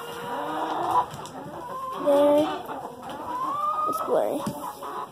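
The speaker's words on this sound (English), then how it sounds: "And we do have turkeys back there." Farm poultry, turkeys among them, cluck and call at moderate distance in short, irregular bursts, while a person talks briefly over them.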